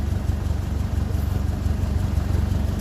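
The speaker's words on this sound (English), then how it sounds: "That engine sounds fairly happy." The engine of a 1957 Ferguson 35 tractor running on TVO idles steadily up close, a deep, even rumble with a regular low pulse and no voices.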